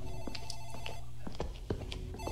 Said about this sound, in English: I think it's the phone in the office room.